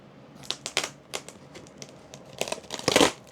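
Small scissors snipping and tearing into crinkly plastic packaging, a handful of close, sharp crackling cuts and rustles that build into a louder burst of crinkling at the end.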